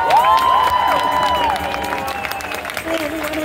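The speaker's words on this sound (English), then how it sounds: "Please give a round of applause." A room of people at a Gaza Freedom Flotilla gathering in the Bay Area claps in a dense round of applause, loud at first and then tapering under a tonal sound that fades.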